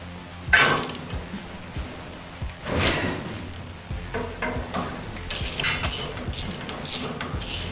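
A wrench works at a 1-inch nut on a steering wheel's horn ring, giving close ratcheting clicks and metallic scrapes in short bursts with pauses between them.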